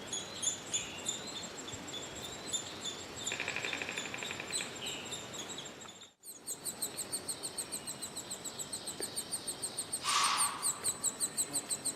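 Outdoors at a woodpecker nest, chicks keep up a rapid, repetitive high chatter and cheeping, which grows louder and more excited as a parent arrives with food, before a brief drop and then renewed steady begging calls.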